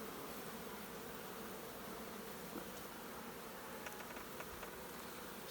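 Honey bees hum and buzz steadily around brood frames as a hive is split into nucs, a dense, close swarm drone with occasional louder passes near the microphone.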